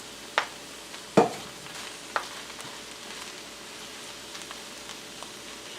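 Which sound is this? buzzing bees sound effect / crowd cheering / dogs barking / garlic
garlic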